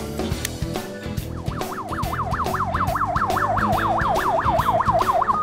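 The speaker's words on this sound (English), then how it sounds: "To turn on the flashing lights and sirens," A toy-style party bus siren wailing in a fast, steady up-and-down pattern, growing louder and continuing without pause, alone with no talk.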